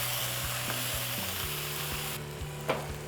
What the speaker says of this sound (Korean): 같이 섞어주세요.